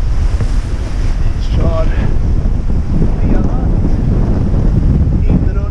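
Strong wind of about 30 knots gusting to 36 roars across the microphone aboard a sailboat crossing the Bay of Biscay, with waves and rushing water underneath, loud and steady throughout, and a brief voice speaking.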